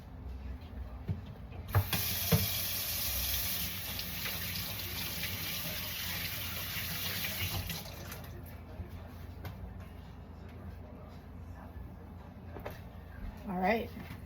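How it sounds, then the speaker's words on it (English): Tap water gushes into a kitchen sink for about six seconds while hands are washed, starting and stopping abruptly, with clinks and handling noises after the flow cuts off. "Wash my hands real quick."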